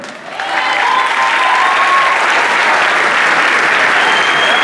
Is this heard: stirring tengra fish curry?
no